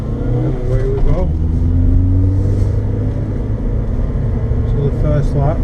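A Ford SportKa revving and pulling away on a race track during a track day, the engine note rising in pitch through the gears, close and fairly loud, with someone talking over it.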